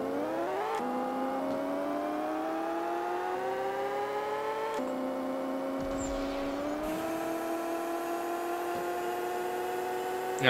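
A car engine in the Pixel Car Racer video game revs hard through a drag race, its pitch climbing steadily and resetting at each gear shift, loud and continuous with no talk over it.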